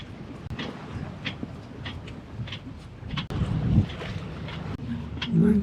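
A sailboat moves along through wind and waves at a few knots, with steady buffeting wind noise on the microphone, sloshing water and occasional thumps and creaks, no voices.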